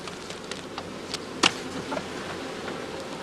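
Bees at a skep apiary during heather blossom, a faint steady buzzing with scattered small taps and one brief sharper knock, quiet and without talk.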